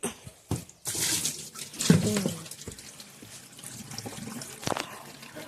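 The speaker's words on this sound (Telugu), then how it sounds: "అది ఏంటంటే మిషన్లో వాటర్ పట్టడం" Water runs into a washing machine, a steady rushing pour with splashes and a few knocks and clunks close by; no voices are heard.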